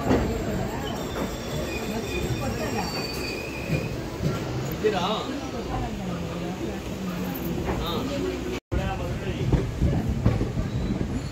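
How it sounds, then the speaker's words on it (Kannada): The Malgudi Express train runs along the tracks just after departing KSR Bengaluru, with a continuous rumble and squealing wheels, heard from inside, while people talk over the noise. "ನಮ್ಮ ಮಾಲ್ಗುಡಿ ಎಕ್ಸ್ಪ್ರೆಸ್ KSR ಬೆಂಗಳೂರಿನಿಂದ ಡಿಪಾರ್ಟ್ ಆಗಿದೆ."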